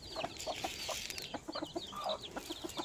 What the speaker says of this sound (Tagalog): Ito na rin yung mga manok. Yung mga sisiw.